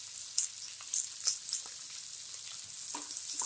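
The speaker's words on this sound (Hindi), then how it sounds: "प्याज को हम अच्छे से भूनने देंगे।" Onions fry with curry leaves and green chillies in oil for a vermicelli upma, giving a soft, steady sizzle broken by light crackles and pops, with no talking.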